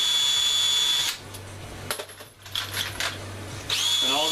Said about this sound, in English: And all this is hooked up to is a cordless drill with an 18-volt battery